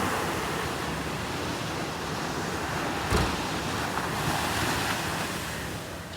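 Ocean surf rolls steadily onto Poonthura beach, where small fishing boats bring in the catch, a broad continuous wash of waves with wind buffeting the microphone and one brief louder surge midway.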